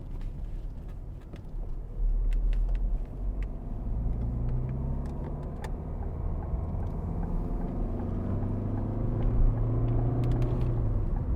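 A 2012 Ford Fiesta 1.4 TDCi diesel Zetec driving with its engine rumbling steadily and rising in pitch as it accelerates through the gears, heard from inside the cabin with continuous road and wind noise.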